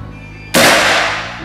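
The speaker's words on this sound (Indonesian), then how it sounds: "Kita akan coba 5 kali tembakan" A single sharp shot from a semi-automatic air rifle, a sudden loud crack that decays over about a second, preceded by quiet background hum.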